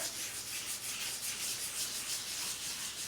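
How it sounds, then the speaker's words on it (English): A wooden spoon rubbing paper over an inked print block, producing a continuous close, dry, rhythmic scuffing that swells and fades with each stroke, with no voices. "I have my wooden spoon purchased from the dollar store, and I'm going to use it to rub"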